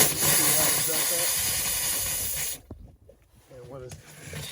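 Compressed air blows water out of a camper's water lines during winterizing: a loud, steady hiss of rushing air sputtering water for a few seconds, then cutting off abruptly to quieter gurgles and faint hissing.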